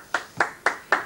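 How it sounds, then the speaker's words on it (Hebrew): Crisp hand claps in a television studio, four evenly spaced sharp slaps in quick rhythm, close and clear with no talking over them. "מחיאות הכפיים מגיעות לרוני שלנו"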